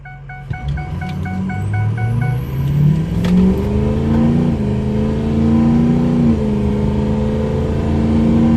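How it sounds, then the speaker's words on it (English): A Ford 6.0 Powerstroke diesel truck at 65,000 miles, untuned and fitted with a KC turbo rebuild kit and 11-blade billet compressor wheel, pulls away from a dead stop. The engine drone rises steadily in pitch, close and loud, with a faint turbo whistle. "Let me start out from a dead stop and we'll see how it goes."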